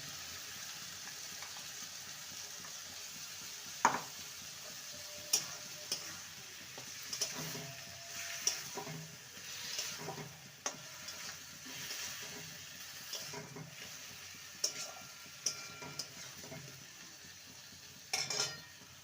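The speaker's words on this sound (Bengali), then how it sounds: "এবারে যে পোস্তটা বেটে রেখেছিলাম সেটা দিয়ে দেবো ভালো করে কষিয়ে নেবো" Ridge gourd frying with ground poppy seed paste in a Bengali kitchen, a soft sizzle under intermittent stirring and spatula knocks against the pan, with a faint trickle of water.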